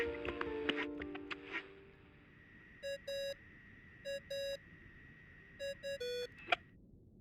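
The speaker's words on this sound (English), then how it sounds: "I really hate that ringing tone" A phone ringing tone in the video game Genshin Impact sounds in several short electronic double-beep bursts, bright and repeated with pauses between them, after some earlier chiming tones, with no talk over it.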